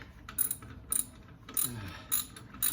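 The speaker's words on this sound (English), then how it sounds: "What I'm doing is I am putting in the top bolt, and that'll help retain it." Ratchet tightening the top bolt on an alternator during an alternator upgrade, several quick bursts of close, crisp metallic clicking separated by short pauses, fairly quiet with no talking.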